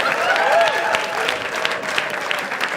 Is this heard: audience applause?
yes